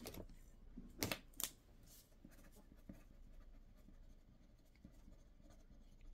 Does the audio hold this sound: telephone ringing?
no